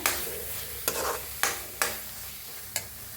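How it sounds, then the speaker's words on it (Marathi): Chicken masala roasts in a pan with a soft ongoing sizzle, broken by four sharp scraping strokes of a spoon stirring it, close and distinct. "मसाला असा छान भाजून घेऊया"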